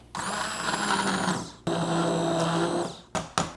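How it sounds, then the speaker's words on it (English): A blender pulses barbecue meat, rice and liquid into a coarse puree: two long whirring runs of about a second and a half each, then two quick short bursts, all close and loud. "The amount of meat and rice and liquid in here looks perfect for us to puree just a little bit. A couple pulses."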